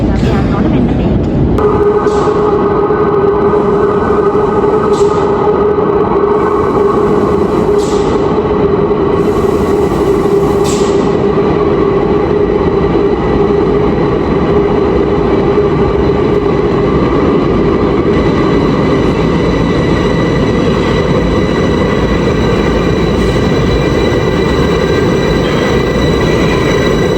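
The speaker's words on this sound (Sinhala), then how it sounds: "ඔය ඉන්නේ අපේ මෙට්‍රෝ එක." A Bucharest metro train pulls into the station with a loud, continuous rumble of wheels and motors. It fills the whole stretch, with faint squeals and a steady whine riding over the roar.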